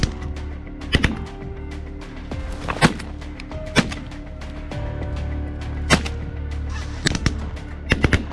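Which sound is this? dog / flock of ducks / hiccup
flock of ducks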